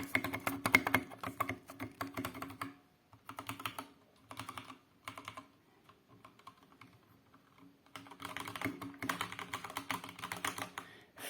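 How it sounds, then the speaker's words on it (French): Typing on a Corsair K65 RGB Mini keyboard: quick, dense bursts of key clatter that stop for a sparse pause in the middle, then resume at full pace. "on commence avec mon clavier, le clavier K65 RGB Mini de chez Corsair. Donc, vous pouvez entendre le bruit"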